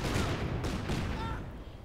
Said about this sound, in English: quick grenade assault as well.